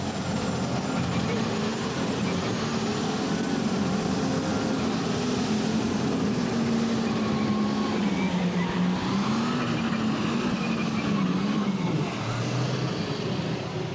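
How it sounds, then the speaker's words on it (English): A drag racing boat engine at a 1994 NTPA Heart of Dixie Grand National event in Lexington, Alabama, revs continuously and loudly, its pitch rising and wavering, under a steady roar with crowd and commentary noise. "Terry Blackburn builds the RPMs up, and he's on at the front end, comes up, and it looks like he's in for a good ride."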